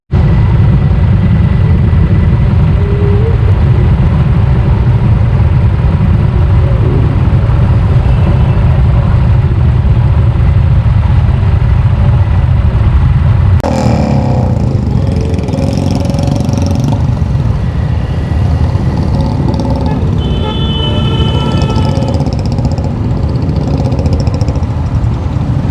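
A motorcycle rides along a road with traffic. The engine drones loudly and steadily throughout, with a shift in tone midway as the ride gets underway and faint higher mechanical sounds above the low rumble.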